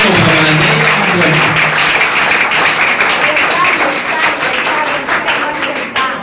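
Church congregation breaks into loud, vigorous applause, many hands clapping close and full throughout, with a voice speaking over it near the start before the clapping thins toward the end.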